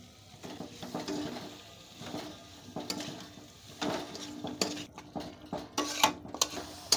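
Spiced mashed potato and turmeric-salted chicken filling being sautéed in a pan for stuffed pointed gourd, with steady scraping and clinking of a spatula against the metal and a soft sizzle underneath, no talk.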